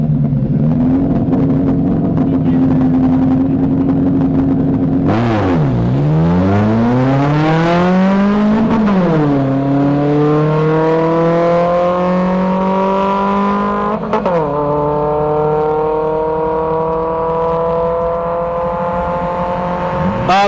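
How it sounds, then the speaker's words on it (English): A Mitsubishi Mirage and a Scion tC drag racing at a street-legal drag strip, a loud engine droning and then revving up through several rising gear shifts with pauses between them. "So we got a Mitsubishi Mirage on the left and a Scion TC on the right"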